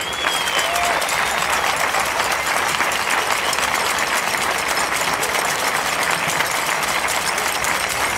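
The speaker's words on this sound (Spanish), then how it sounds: "para todos ellos el mejor aplauso del día de hoy" Sustained, dense applause from a crowd at a street protest by restaurant and bar owners against business closures, steady and loud throughout with a faint whistle early on.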